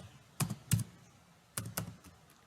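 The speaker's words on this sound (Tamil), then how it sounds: "இப்போ வந்து ப்ரோக்ராமை டைப் பண்ண போகிறோம்." Keys on a computer keyboard being struck while a program is typed, a few sharp clicks in two small pairs separated by a pause, close and fairly quiet with no talking.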